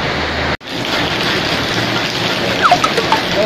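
Steady rain hisses close by with a constant wash of noise, broken by a brief dropout and a few faint chirps later on.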